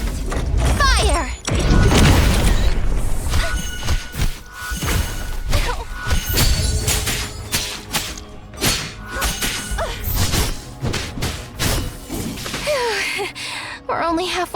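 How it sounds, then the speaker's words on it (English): In the Black Beacon game, a rocket fires and explodes with a sharp whoosh followed by a loud crashing blast, then a series of shattering impacts and booms amid busy game effects and music. "Rocket locked! Fire!"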